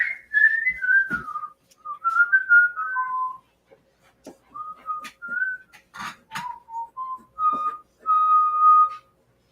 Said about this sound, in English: I could whistle it for you, actually.